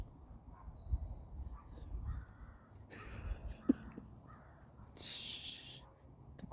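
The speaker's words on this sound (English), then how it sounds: "crows in the background." Crows cawing outdoors, a few harsh calls rising now and then over quiet ambient background, moderately distant and not very loud.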